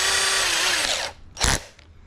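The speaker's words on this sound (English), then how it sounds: "we're going to drill a pilot hole" Power drill boring a pilot hole in a plastic jon boat: a steady close whine for about a second, then a short second burst after a pause, with no talk.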